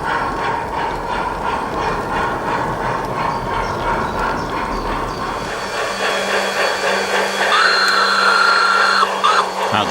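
A model railway mixed train pulls away from a station on the Peckforton Light Railway layout: a steady rushing, hissing run that settles into a sustained motor whine with a low hum toward the end, with no talk.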